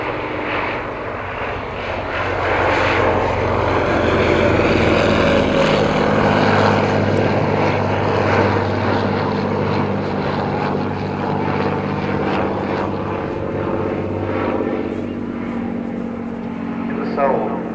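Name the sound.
Bristol Fighter biplane engine in flight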